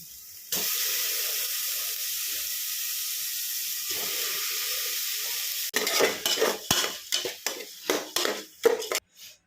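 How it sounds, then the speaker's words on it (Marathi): A steady pour of soaked lentils and rice rattles into a pressure cooker for khichdi, followed by a series of short scraping and stirring clinks against the metal. "आता टाकूया आपली डाळ आणि तांदूळ"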